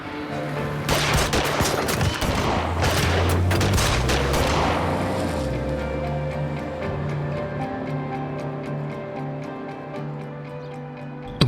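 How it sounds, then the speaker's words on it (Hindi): Gunfire strikes a family home, dense bursts of loud cracks in the first few seconds, then a sustained ringing, droning tail with sparse ticks as the shooting fades. "हमारे घर पर गोलियां चली हैं।"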